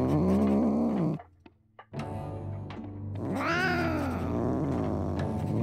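A cat in the video game Drova - Forsaken Kin lets out drawn-out, wavering meows and growly yowls, loud and close, broken by a short quiet pause between calls.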